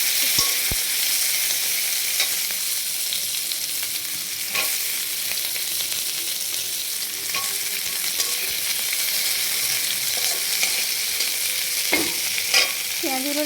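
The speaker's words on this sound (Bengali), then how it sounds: "পেঁয়াজগুলো দিয়ে দিচ্ছি।" Onions sizzle and crackle in hot oil in a wok, a loud, steady frying hiss with occasional stirring scrapes and clinks.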